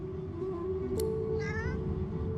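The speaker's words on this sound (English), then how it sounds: "The cat begins to purr and rub itself on your ankles." A cat in the video game Divinity Original Sin 2 gives a single clear, rising meow, close and distinct over a low steady hum of game ambience.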